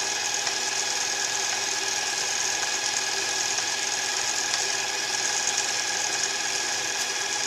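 A sewing machine winding green thread onto a bobbin, a steady close mechanical whir with a fine tonal hum that holds evenly throughout, with no voices.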